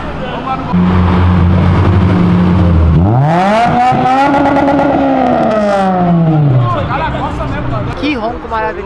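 A BMW car engine revs hard from a steady low idle, the pitch sweeping up and then falling back down over several seconds, loud and close, with a voice talking under it and after it.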